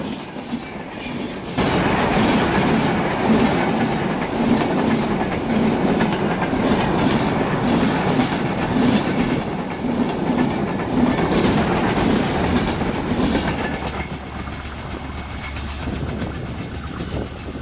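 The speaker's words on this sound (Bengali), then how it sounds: "আমাদের গ্রামের মাঝখান দিয়ে ট্রেন যাওয়ার দৃশ্যটি যতবারই দেখি ততবারই ভালো লাগে।" A train runs along the tracks through a rural village at harvest time, its steady rumble and rhythmic clickety-clack of wheels loud and close for most of the passage, then easing off near the end.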